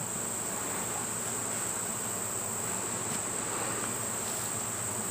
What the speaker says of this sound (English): We've got about 2 pounds of bees hanging on that one super.